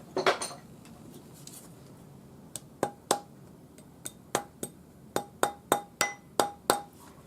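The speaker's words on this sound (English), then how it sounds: "And use the rawhide hammer." A rawhide hammer taps a metal ring shank on a mandrel during jewelry making, giving a series of sharp, bright metallic clinks, sparse at first and then quicker and more regular, close and alone.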